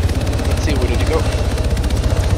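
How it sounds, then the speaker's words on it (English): A helicopter in the video game Arma 3 gives a steady, rhythmic rotor thumping close by, with players' voices over it. "I can hear the chopper"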